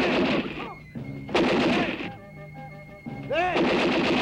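Rifles fire at a firing squad in a Filipino comedy film, sounding as a few loud, reverberant bursts of gunfire mixed with shouting voices.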